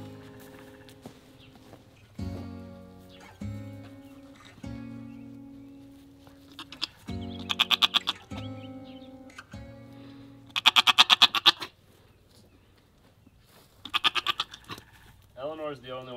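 Female farm goats bleat again and again in loud, wavering calls, with quieter stretches in between where a person talks to them.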